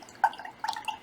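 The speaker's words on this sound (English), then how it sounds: "Let me spray my pan again" A spray bottle mists water onto a watercolor paint pan, a few short, quiet spritzes within about a second.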